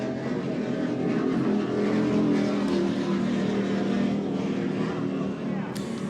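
A 47-foot MTI powerboat races past during a 2011 Cocoa Beach offshore powerboat race, its engines a loud, sustained roar for the whole stretch while a commentator talks over it.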